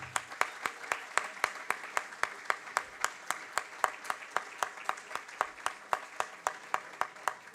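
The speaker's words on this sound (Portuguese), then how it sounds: "preparem as mãos para uma calorosa salva de palmas para essas mulheres" A small group clapping at an executive board meeting for the women being honoured, sparse and rhythmic, with evenly spaced sharp claps at a moderate distance and a fairly quiet level.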